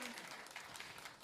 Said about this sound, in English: let's give Carol a big round of applause